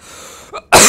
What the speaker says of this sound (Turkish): Öksüreceğim.